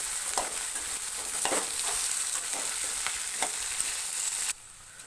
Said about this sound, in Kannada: ಎಣ್ಣೆಲೆ 5-6 ನಿಮಿಷ ಚೆನ್ನಾಗಿ ಹುರ್ಕೋಬೇಕು